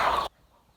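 A single short, loud cluck from a village (desi) hen, close by, followed by near silence.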